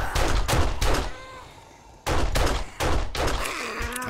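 Bursts of gunfire in the video game 7 Days to Die on horde night: loud rapid volleys of shots, pausing briefly before resuming in repeated strings, with no speech over them.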